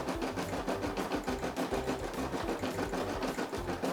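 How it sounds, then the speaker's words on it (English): A Brother SE600 embroidery machine stitches out a Baby Shark design, its needle keeping a fast, even mechanical rhythm that runs steadily and close by throughout. "Letting it stitch out, almost done."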